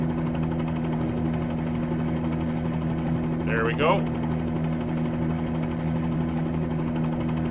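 A Bell 47G helicopter lifting off on a sightseeing flight, its rotor and piston engine making a steady, loud, close droning hum throughout, with a short spoken remark partway through.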